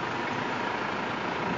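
Isuzu diesel truck engine running at idle, a steady dense close rumble with no variation or voices.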